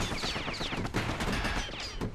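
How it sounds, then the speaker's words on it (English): Weapon fire from a cannon in the action video game Bastion bursts out in rapid, dense blasts with layered game effects, loud and continuous for a couple of seconds. "And that would be the cannon."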